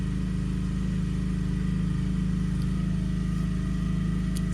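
A mower engine runs outdoors, a steady mid-pitched drone that holds constant and fairly loud throughout, with no speech over it.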